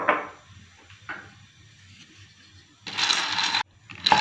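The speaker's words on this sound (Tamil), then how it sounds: "இப்போ ட்ரையாக தான் வறுக்க போகிறோம் நிலக்கடலையை" Peanuts dry roasting in a pan, heard as scattered rattles and scrapes of nuts being stirred against the metal, with a longer rattling burst near the end.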